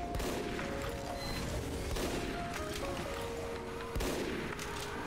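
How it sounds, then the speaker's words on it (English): Gunshots in Team Fortress 2 while shooting an invisible Spy, with loud repeated blasts over dense battle noise and a constant din of game action throughout. "Oh my god, just shot invisible spy."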